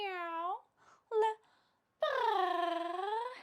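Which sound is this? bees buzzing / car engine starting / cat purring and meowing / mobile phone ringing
cat purring and meowing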